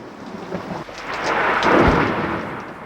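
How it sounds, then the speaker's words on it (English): Thunder rolls through a thunderstorm with rain falling, a low rumble that swells and peaks loudly before easing off, with no voices. "Thunder is a wake-up call."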